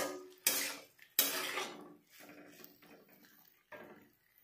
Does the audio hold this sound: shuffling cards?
no